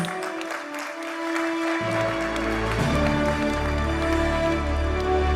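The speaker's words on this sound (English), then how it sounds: "Ladies and gentlemen, a bigger round of applause." Applause from a conference audience at an agricultural industry event fills the hall as a warm continuous wash of clapping, with music or a sustained tone underneath.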